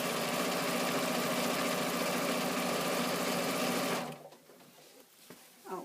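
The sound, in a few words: sewing machine stitching fabric channels on a carryall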